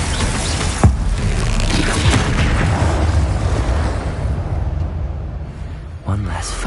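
Bombarda spell explosions in a Hogwarts video game land as two sharp booms, one early and one near the end, over a continuous rumbling battle bed with a voice speaking.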